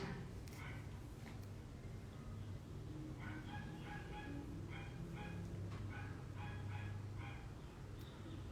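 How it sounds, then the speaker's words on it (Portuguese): Small dog yapping in a series of sharp, high barks in the middle of the stretch, heard at moderate distance over a steady low background hum, with no one talking. "Tem algum cachorrinho latindo querendo fazer parte da nossa live."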